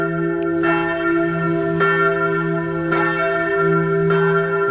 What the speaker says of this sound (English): The bell tower's ringing.